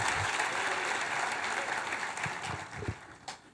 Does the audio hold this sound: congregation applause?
yes